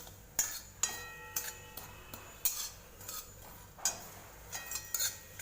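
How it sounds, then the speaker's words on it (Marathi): Poppy seeds being dry-roasted and stirred in a pan, with a spoon scraping and clinking against the metal in irregular taps spread across the clip, fairly faint with faint background music. "हे बघा आपण आता सर्वप्रथम खसखस भाजून घेऊया"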